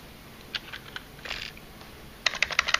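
Quick, light clicks of a computer keyboard, typed close by in a quiet room. A few scattered taps come first, then a brisk run of keystrokes at the end.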